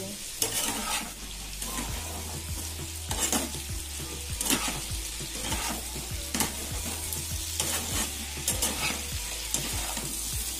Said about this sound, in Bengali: সবকিছুকে ফোড়নের সাথে নাড়াচাড়া করে এবার মিশিয়ে নেব।